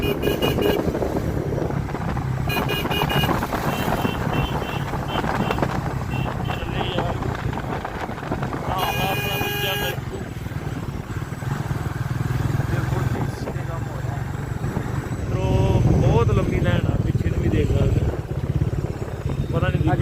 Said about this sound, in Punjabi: ਬੱਸ ਆ ਗਈ ਇਧਰੋਂ ਮੋਟਰਸਾਈਕਲ ਆ ਗਏ